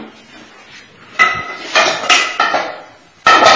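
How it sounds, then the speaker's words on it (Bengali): Metal lid lifted off a pot and flour tipped into a bowl, a few sharp clanks and rattles of metal against metal with brief pouring rustles between, close and fairly loud. "এখন আমি ঢাকনা খুলে ময়দাটাকে গামলার মধ্যে ঢেলে ফেলব"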